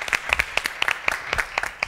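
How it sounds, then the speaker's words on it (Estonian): Scattered applause from a small forum theatre audience, with individual hand claps clearly separate and irregular, close and moderately loud, lasting under two seconds with no voices. "Teeme suure aplausi."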